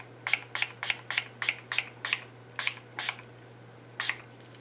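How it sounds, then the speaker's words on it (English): Cocoa-colored acrylic spray paint hisses from a can in about ten short, sharp bursts at a steady rhythm as the backs of paper dolls are coated, close by, over a faint low hum. "I'm going to bring the cocoa spray acrylic back in"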